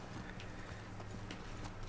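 Horse hooves clip-clop in The Last of Us Part II, a steady run of soft, even hoofbeats under a constant low in-game rumble, moderately faint throughout.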